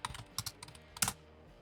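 Someone types on a computer keyboard in a short burst of quick, light key clicks, close and fairly quiet, with a brief pause before a final pair of taps.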